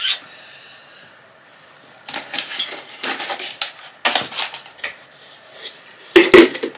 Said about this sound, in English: trying to find a nursery pot that will fit in there.